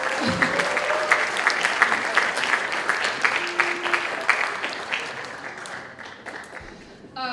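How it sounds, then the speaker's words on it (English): An audience claps at a high school spring band concert, a dense burst of applause that gradually fades out over several seconds. "Yes, you can applaud ice cream, yes."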